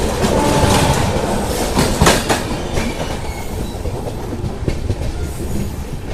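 A Secunderabad–Danapur train passing close by: a loud, steady rumble with rhythmic clickety-clack of wheels over rail joints and a brief louder clatter partway through, without voices.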